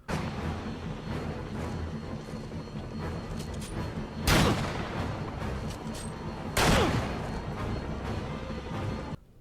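Gunfire in the Marvel's Spider-Man video game: two sharp, loud blasts stand out above a steady rumble of combat noise, with no talking.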